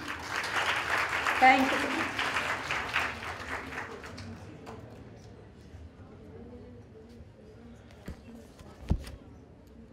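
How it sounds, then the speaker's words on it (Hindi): Audience applause at an Urdu department poetry gathering at Lahore College for Women University, a dense burst of clapping for the first four seconds that fades out, followed by a brief spoken thanks and a few isolated knocks. "आपकी तालियां।"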